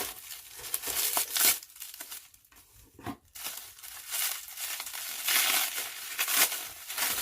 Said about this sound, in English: So let's go ahead and use the scissors.